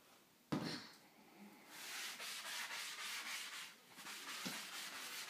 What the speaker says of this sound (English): One more squirt and then scrub real hard.